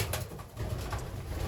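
Racing pigeons coo steadily in a loft, a soft low murmur of several birds layered close together and continuous throughout.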